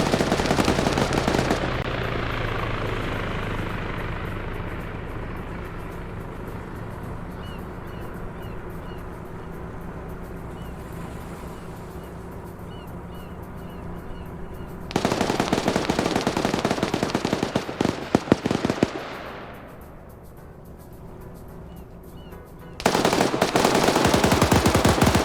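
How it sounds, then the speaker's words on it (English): Automatic gunfire in a multiplayer shooter game, aimed at a helicopter, sounds as long, dense rattling bursts that roar loud, fade to a lower rumble, then resume in sharp full-volume volleys, with no talk over it. "they're just shooting at the chopper"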